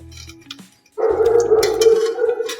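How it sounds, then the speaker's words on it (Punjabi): A pet dog in a home kitchen barks loudly while a pumpkin dish is being cooked, a sustained run of close, insistent barking after a brief quieter moment. "ਇੱਕ ਸਾਡਾ ਡੌਗੀ ਨਾ ਜਦੋਂ ਹੀ ਮੈਂ ਬੋਲਦੀ ਆ ਉਹਦੇ ਨਾਲ ਬੋਲਣ ਲੱਗ ਜਾਂਦਾ"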